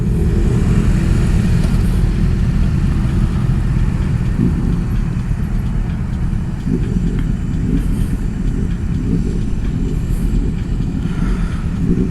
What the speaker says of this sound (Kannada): ತುಂಬಾ ಬೈಕ್ಸ್ ಪಾಸ್ ಆಯಿತು, ಎಲ್ಲ ಹಿಡ್ಕೊತಾ ಇದ್ದಾರೆ ಅನಿಸುತ್ತೆ.